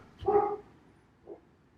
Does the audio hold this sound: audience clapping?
no